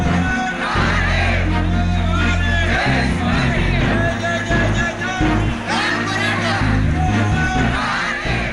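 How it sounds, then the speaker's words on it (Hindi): Dense crowd noise at a Maratha protest rally, a loud continuous roar of many voices with yells and whoops swelling in waves across the whole stretch. "भारी भारी भीड़ लोगों की, मराठा क्रांति"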